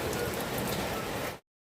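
Rain falls steadily in a village, a dense, even hiss of drops on surfaces for just over a second before cutting off abruptly.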